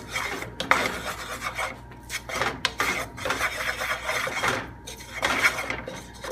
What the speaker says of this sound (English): we're gonna just mix this no bullshit spice mixture